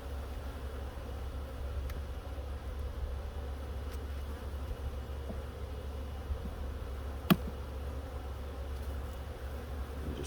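Honeybees swarm around an opened hive being readied for winter, a continuous close, low buzzing hum with individual bees zipping past the microphone.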